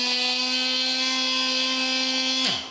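A Ryobi oscillating tool fitted with a sanding attachment runs at max power with a steady, high buzzing whine, then spins down as it is switched off near the end, close and alone.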